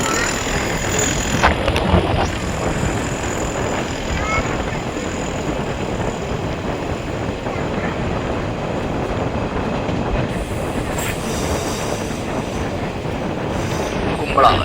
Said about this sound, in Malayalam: ട്രെയിനിൻ്റെ ആദ്യത്തെ ഹാൾട്ടായ കുമ്പള റെയിൽവേ സ്റ്റേഷനിലേക്ക് ട്രെയിൻ എത്തുകയാണ്.